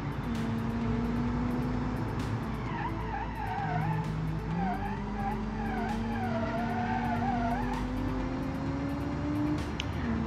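A 300 HP all-wheel-drive hatchback in the video game BeamNG drones steadily with rising pitch as tires squeal and skid repeatedly, a constant loud mechanical roar throughout.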